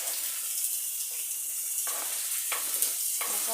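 Sliced onions frying in hot oil in a pan for a macaroni dish, a steady soft sizzle with occasional stirring scrapes, fairly quiet and uninterrupted by talk.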